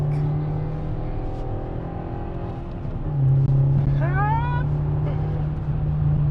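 A GT3 race car passes on the Nürburgring, its engine note rising and swelling loudly over a steady in-car drone, with voices talking over it.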